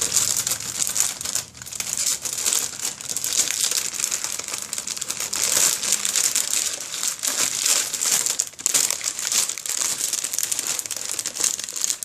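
A plastic bag crinkles and rustles steadily as sheets of 12 by 12 scrapbook paper are slid inside, a loud, close, continuous crackle with no talk.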